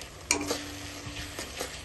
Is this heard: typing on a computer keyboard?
no